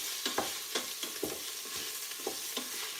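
Onions frying in a pan, a soft continuous sizzle with a regular series of spoon clicks and stirs against the pan, close and fairly quiet, no voices.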